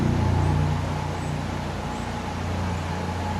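A cement truck drives past nearby, a steady low engine drone mixed with broadband road noise that swells slightly at the start and then holds evenly.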